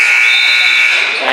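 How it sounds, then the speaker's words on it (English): A loud, steady electronic buzzer ends the third quarter of a girls' basketball game, one continuous nasal tone holding for over a second, heard alone and close. "Buzzer sounds,"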